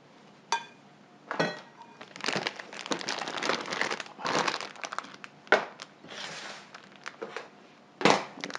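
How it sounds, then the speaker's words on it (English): Glaze for banana and chocolate chip scones spooned into a plastic piping bag, giving close, irregular crinkling and rustling of plastic with a few sharper scrapes and taps, no talking. "So I'm going to put all of this in my bag."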